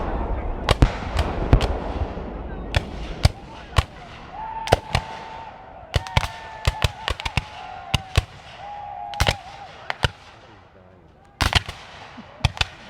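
Sharp black-powder musket shots crack out one after another at a Battle of the Wilderness Civil War reenactment in Zoar, 2019, some close and loud, others distant, firing irregularly with short ringing decays between volleys.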